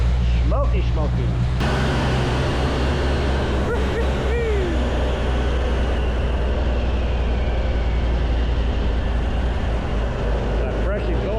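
A VE car with an upgraded Crow 1287 cam and a new, smoking exhaust idles loudly and continuously, its deep steady rumble filling the whole span while faint voices sit underneath.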